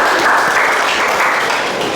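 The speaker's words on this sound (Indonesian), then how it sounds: "Oke, tepuk tangan dulu." A class audience in a university database-design lecture claps after a group presentation, a short, even burst of many hands in a room.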